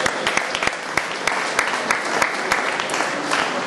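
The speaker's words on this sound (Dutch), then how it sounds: "een applaus voor Karen Verhestra" A crowd applauds at a women's cyclocross team presentation, dense clapping with sharp individual claps standing out, close and fairly loud, steady for the whole stretch.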